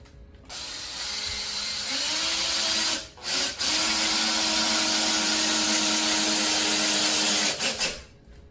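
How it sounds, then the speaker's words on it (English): A power drill pre-drills wood, whirring steadily for several seconds, dipping briefly midway as it bites in, then winding down at the end. "I may just go ahead and pre-drill them."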